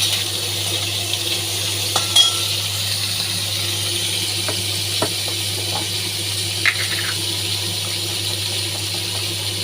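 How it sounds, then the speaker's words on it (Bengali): Cauliflower and potato pieces frying in hot oil in a wok give a continuous even sizzle, with occasional faint clicks from a utensil, close and steady with no voices. "তেলটা গরম হয়ে গেছে। এবার আমি এতে দিয়ে দেবো ওই ফুলকপি আর আলু।"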